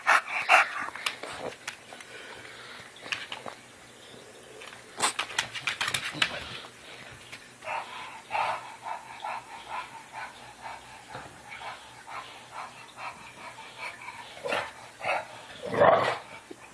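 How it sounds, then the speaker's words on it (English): A needy dog pants and gives short barks close by, with irregular bursts of huffing and yelps and some bird calls in the background, while a person talks to it. "You are such a needy dog"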